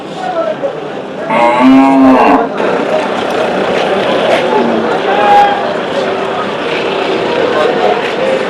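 A cow at the Saturday Chakan cattle market gives one loud, drawn-out moo near the start. Market hubbub follows with people talking and distant vehicle noise.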